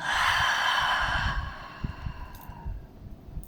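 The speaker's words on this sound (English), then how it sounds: "take a deep breath with me. So inhale, exhale." A person takes a slow, deep breath, a long airy inhale followed by a softer, drawn-out exhale, close and alone.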